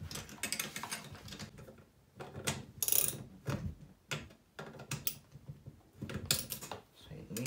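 Bolts on a Chaplin fertilizer and seed spreader are snugged up with a tool, giving a series of close, irregular clicking ratchet bursts separated by short pauses.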